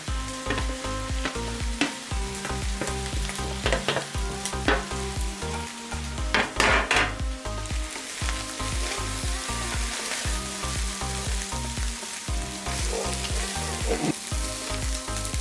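Chicken egg fried rice made with plain white jasmine rice sizzles loudly in a home frying pan, with steady frying hiss and repeated rhythmic scraping of stirring throughout, close and continuous.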